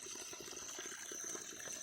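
Water flowing steadily in a mountain village, a faint continuous rushing and splashing with a thin high hiss, no talking over it.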